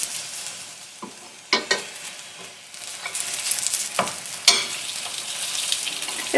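Chicken qeema parathas fry in oil in a pan, giving a continuous soft sizzle with a few sharper clatters of pan or spatula scattered throughout, no voices.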